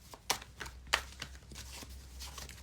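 Tarot cards riffle and slap in a few quick bursts, close and fairly crisp, with two sharper snaps standing out over a quiet room hum.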